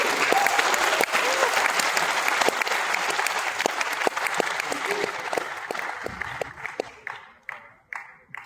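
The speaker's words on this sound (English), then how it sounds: "with a huge round of applause, please welcome co-founder and CEO of Meesho, Mr. Vidit Atre" A large campus audience at IIT Delhi applauds to welcome Meesho co-founder and CEO Vidit Atre. The dense, loud crowd clapping thins out toward the end into scattered individual claps.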